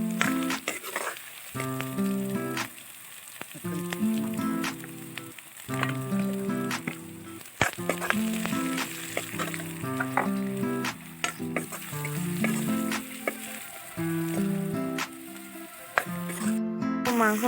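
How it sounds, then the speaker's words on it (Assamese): Meat frying in very hot oil gives a continuous bright sizzle and crackle, running steadily throughout beneath louder melodic background music. "অকণমান ৰঙা হ'বলৈ দিব ৰঙা হৈছেগৈ আৰু লাহে লাহে তেলটো বেছি গৰম আছিলে"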